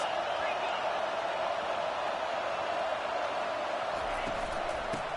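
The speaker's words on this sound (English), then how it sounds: "Listen to this crowd just shaking the girders of this place, trying to help their defense." Stadium crowd at a college football game roaring in a steady, dense wash of cheering that holds loud throughout, with a few sharper shouts near the end.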